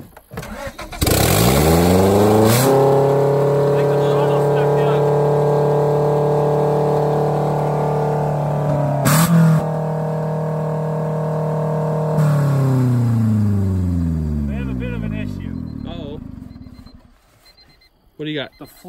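A crash-damaged Honda Civic cranks and starts, then its engine revs and holds a loud, steady drone before dropping away, with a brief knock midway.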